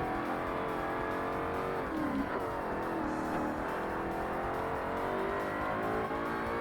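Race car engine from an R-GT endurance-class car in Forza Motorsport, revving hard and steadily throughout with shifting pitch, loud and continuous with no talking.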